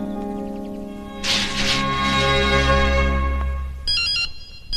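A cellular phone plays a loud, melodic electronic ringtone up close, with tones ringing through the whole stretch and a deep low swell partway through.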